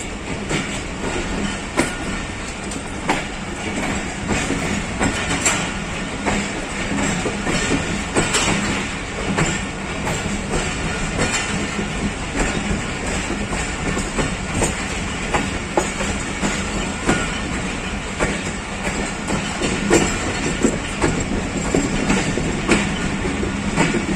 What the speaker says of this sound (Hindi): पाकिस्तान एक्सप्रेस झेलम से रवाना